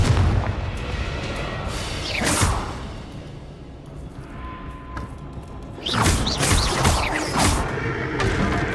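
A Confringo fire spell cast in the video game Hogwarts Legacy, heard as two loud whooshing blasts with explosive booms, the first around two seconds in and a longer, heavier burst of impacts from about six seconds on, over a low rumbling background.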